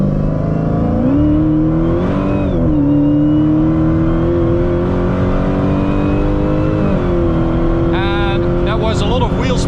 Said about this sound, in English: that was a lot of wheel spin at like 120 kilometers an hour